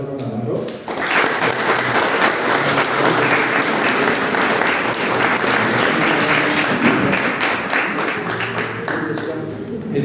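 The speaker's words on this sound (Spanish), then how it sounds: "pido por favor si me regalan un fuerte aplauso" Loud, sustained applause from an audience at a community event in Spanish, welcoming a professor; dense clapping fills the whole stretch after a brief quieter start, with some voices mixed in.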